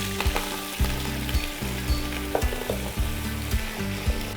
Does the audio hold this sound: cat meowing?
no